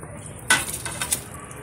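A lid set onto a cooking pot of chicken with peas, carrot and corn, one sharp metallic clank followed by lighter rattling clinks as it settles, over a low steady simmer.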